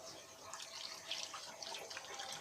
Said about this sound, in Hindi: अब हम इसके बीच में पानी ऐड करेंगे